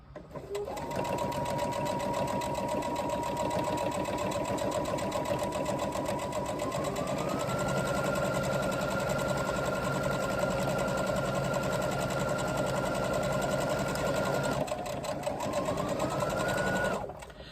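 A sewing machine top-stitches binding onto a crossbody bag in a long, close, continuous hum that rises slightly in pitch midway, dips briefly near the end, then runs on, with no talk.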